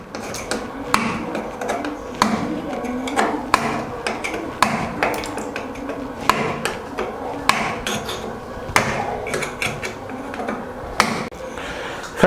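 A hammer and screwdriver chip old metal paste from a granite kitchen sink, giving close, loud, irregular metallic knocks and taps repeated throughout with short pauses between strikes, and no talking.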